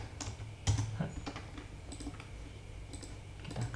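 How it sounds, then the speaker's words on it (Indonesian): Keyboard typing while building a simple printing-shop invoice design in CorelDRAW: a few quick key clicks in small bursts, close and fairly soft, with quiet gaps between. "Kita ketik"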